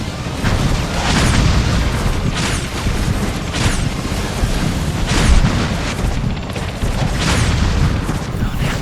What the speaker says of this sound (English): Just gotta keep dodging those rockets